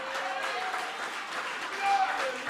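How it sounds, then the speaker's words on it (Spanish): A church congregation at a Bonaire revival service applauds together, a continuous, dense clapping that fills the space steadily and swells slightly near the end. "Puede darle ese aplauso a la gloria Un de Dios."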